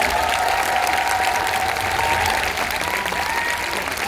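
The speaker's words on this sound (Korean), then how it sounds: "따뜻한 박수로 맞아 주시죠." Warm applause from a concert audience greets a Korea Leukemia Children's Foundation representative coming onstage at a charity event. The clapping is dense, steady and loud throughout, with a faint murmur of voices underneath.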